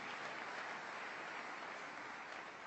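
A church congregation applauding the choir, a steady, even wash of many hands clapping at once, moderately distant and unbroken from start to finish.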